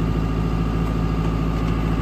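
A John Deere tractor engine idles steadily, a low droning hum with faint harmonics holding constant and fairly loud throughout, with no other sounds over it.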